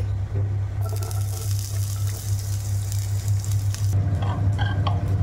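Chopped onions fry in hot oil in a pan with a steady, close sizzle and hiss over a low background hum, lasting several seconds.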